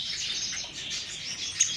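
Many caged birds kept by a breeder chirp and tweet in a dense, continuous chorus of high, bright calls, moderately loud and close, with no talking.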